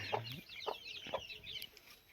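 A desi hen and her small chicks cluck and peep close by on a village poultry farm, with a few soft hen clucks mixed with high, rapid chick cheeps.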